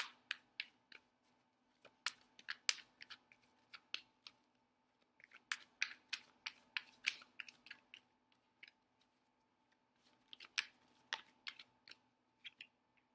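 Tarot cards are shuffled and pulled in quick, irregular bursts of crisp, papery flicks and snaps, close and quiet, with short pauses between runs.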